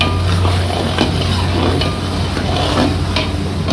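Tomatoes sizzle and fry in a pan for lati ni dal while a spoon stirs and scrapes, a continuous loud crackle with intermittent clinks, close up and without speech.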